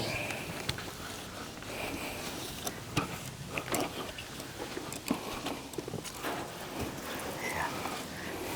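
A water spray hisses steadily while rinsing a 1955 Chevrolet Bel Air, with crackling splashes and sharp drips breaking up the wash and faint talk in the background.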